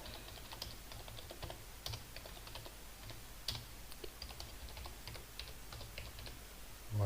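Typing on a computer keyboard to rename a document, a fast irregular run of light key clicks with a few louder taps, close and steady throughout, no talking.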